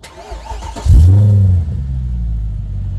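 A Mercedes-Benz C63 AMG sedan with a naturally aspirated 6.2-litre V8, stage 2 tuned, cranks briefly and fires into a loud, deep roar, then settles into a steady rumbling idle close by.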